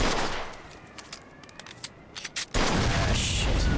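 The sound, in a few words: gunshots from video game Mafia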